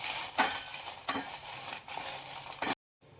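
Guntur red chilies dry-roast in a pan, heard as a few bursts of rustling and scraping as they are stirred, fairly close, followed by sudden silence.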